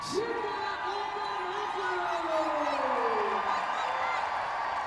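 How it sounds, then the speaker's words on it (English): Fans at a Northern Super League women's match between Vancouver Rise FC and AFC Toronto applaud a player's club debut, a steady wash of crowd clapping and cheering heard from a distance under a commentator's voice. "the fans giving her a hearty round of applause"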